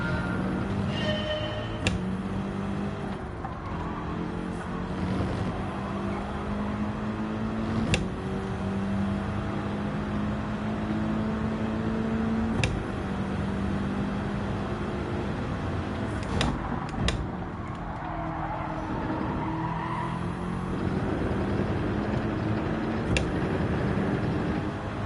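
A race car in Gran Turismo 7 drones steadily through laps, its engine note rising and falling with gear changes and occasional faint clicks, continuous and unbroken with no talking.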